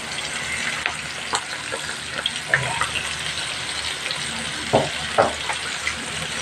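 Shrimp tempura deep frying in a pot of oil gives a faint, steady sizzle with a few brief louder crackles and bursts scattered through.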